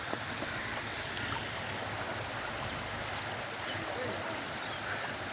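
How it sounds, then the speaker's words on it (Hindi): Rushing water of the Sindh River roars as a steady, dense wash of broadband noise, constant and fairly close with no voices over it. "पानी का शोर आपको सुनाई दे रहा होगा।"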